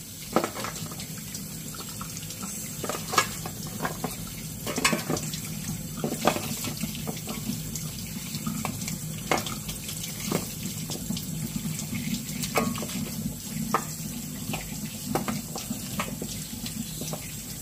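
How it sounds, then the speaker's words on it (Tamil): Running tap water rinses frozen jamun fruit in a sink, a steady close splashing stream with small irregular knocks and clatters throughout, no voices. "இதை இப்ப நல்லா வாஷ் பண்ணிட்டு எப்படி இருக்குன்னு சொல்றேன்"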